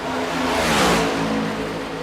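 NASCAR Next Gen stock car engines in the iRacing simulator at Talladega Superspeedway give a sustained, loud mid-pitched drone that swells and fades slightly as the cars pass.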